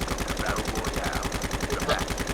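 Rapid sustained automatic fire from an M4 LMG in the mobile battle royale game Call of Duty Mobile, a dense, even rattle of shots running throughout at close range.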